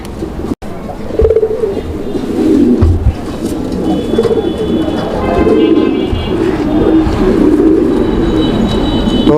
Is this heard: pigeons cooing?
yes